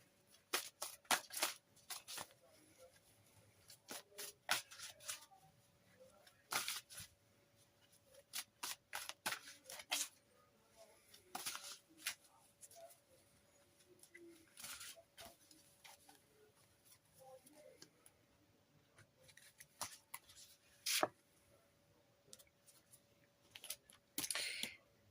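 Tarot cards shuffled and drawn from a deck: bursts of crisp riffling and snapping card sounds in irregular clusters, close and fairly faint, separated by quiet pauses over about twenty-five seconds.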